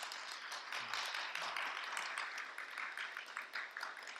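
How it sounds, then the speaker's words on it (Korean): Church congregation applauding to welcome two newcomers at a Sunday service in New Zealand, steady crowd clapping that sounds fairly distant and faint, sustained throughout. "두 분 잠깐 일어나시면 우리 크게 한번 박수로 환영해 주시기 바랍니다"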